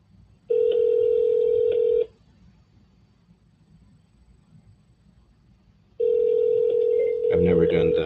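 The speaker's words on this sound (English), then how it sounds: "Okay, I'm calling right now." An outgoing telephone call rings back in two steady electronic tones, each lasting about a second and a half, separated by a few seconds of quiet line. Clattering handling noise overlaps the end of the second ring.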